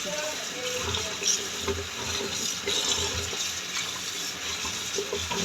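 Running tap water splashes over vegetables being washed in a sink for vegetable khichuri, a steady close rush with small clatters and shifts.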